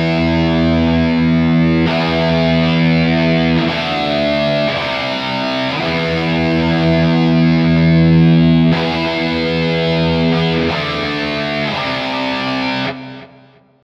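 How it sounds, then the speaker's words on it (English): Heavy metal guitar riff in E Phrygian and 6/8 time, with chugging distorted rhythm guitar and a second part playing the chords behind it, loud and sustained with shifting chords, no talking. "There's also another guitar part, which is just playing the chords behind the chugging riff"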